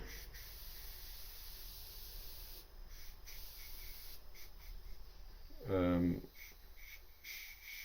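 An airbrush hisses steadily and closely while spraying paint onto a Darth Vader design on a VW T5 fuel flap, with short pauses in the flow and a brief voice near the end.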